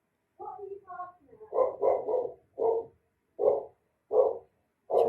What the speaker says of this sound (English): a dog that was barking at something